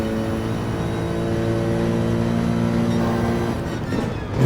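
A Mercedes-AMG GT3 race car engine in Gran Turismo 7 at Watkins Glen drones with a steady, sustained tone while holding speed, loud and close with no talk, rising slightly at the end.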